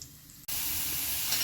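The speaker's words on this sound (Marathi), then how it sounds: "यामध्ये कांदा घालून घेऊया." Chopped onion hits hot oil with cumin and mustard seeds in a kadhai, a quiet moment giving way to a sudden, loud, steady sizzle that continues close up without any talk.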